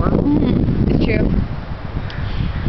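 Wind buffets the microphone outdoors in a neighborhood, a loud rumbling roar that eases partway through, while people talk over it.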